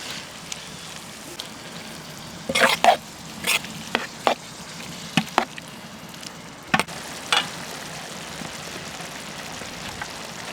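Shrimp frying with butter in a pan, a steady close sizzle with occasional sharper crackles and spatter pops, no voices.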